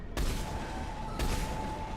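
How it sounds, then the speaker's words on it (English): A Harvester in the video game Mass Effect 3 fires two heavy, booming shots about a second apart, each a sharp broadband crack over a constant low rumbling background. "That's just a harvester that's just like taking pot shots at you."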